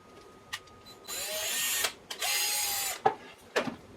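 A power drill bores a hole in the center of each side of a wooden dowel rod for a homemade puppet theater, with two sustained whining bursts of about a second each, separated and followed by sharp clicks and taps.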